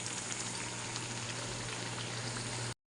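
Potato burgers frying in oil, a steady, even bubbling hiss close by that holds constant before cutting off abruptly, with no voices.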